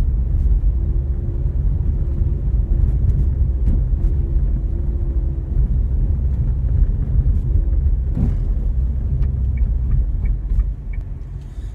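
Renault Duster Iconic CVT SUV climbs a hill, heard from inside the cabin as a loud, steady engine and road rumble that eases slightly near the end.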